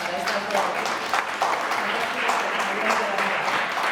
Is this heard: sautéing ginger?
no